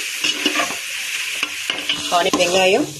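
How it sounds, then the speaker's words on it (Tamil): Onions sizzling in hot oil with fennel seeds for mutton biryani, a loud close crackle with scraping stirs of a spoon against the pan, busier bursts of spitting toward the end. "எண்ணெய் ஊற்றி வெங்காயம், அதுக்கப்புறம் சோம்பு போட்டிருக்கேன்"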